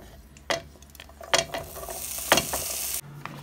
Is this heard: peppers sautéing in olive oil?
yes